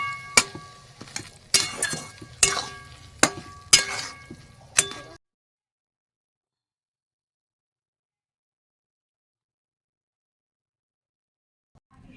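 A spoon clinks and scrapes against a pan, about six sharp knocks in the first five seconds while a fish curry with coriander-cumin powder is stirred. Silence follows.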